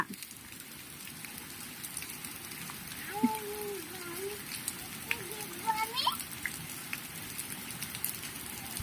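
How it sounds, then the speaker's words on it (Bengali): Steady rain patters on a surface throughout, with a voice and people talking faintly over it. "বৃষ্টি পড়ছে, তুমি কি করছো বাইরে?"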